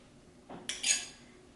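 A large tablespoon gives a single short, close metallic clink while scooping shortening into a pot of chicken stew; otherwise quiet, with no talking.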